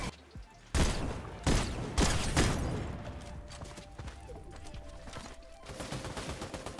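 Bursts of gunfire from a fight nearby in Fortnite, several loud volleys in the first few seconds and then lighter, more distant rapid shots rattling on beneath.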